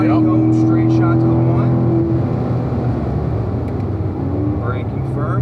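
Corvette engine powering through turn two on a race track, a loud steady drone with low harmonic tones that shift pitch midway, while someone talks over it throughout.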